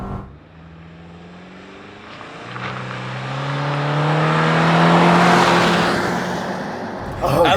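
A 2024 Subaru Crosstrek accelerating with its CVT, the engine droning in a steady rising tone that swells louder over several seconds, heard from inside the cabin.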